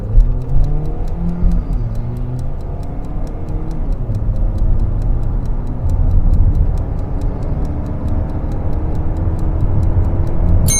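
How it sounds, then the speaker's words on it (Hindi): A 2026 Hyundai Elantra Hybrid in sport mode with traction control off accelerates from 0 to 100, a steady close engine and road roar with rising tonal drone and a faint regular ticking above it. "अब हम गाड़ी का 0 to 100 टेस्ट करते हैं"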